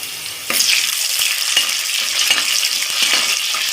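Green chillies and onions frying in oil, a bright continuous sizzle starting with a jump as the pan is stirred, punctuated by several sharp scraping stirs, close up with no speech.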